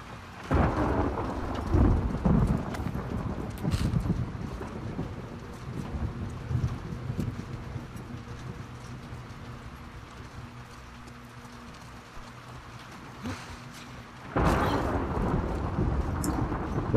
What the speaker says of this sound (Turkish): Yalnız ne biçim bir hava yapmışlar bu gök gürültüsü falan rezalet ya.